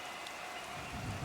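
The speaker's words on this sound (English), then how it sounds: "I guess the rain is just that bad" Steady hiss of heavy rain on the track in a 1972-season racing management game, a continuous broadband wash with a faint low rumble building toward the end, no voices.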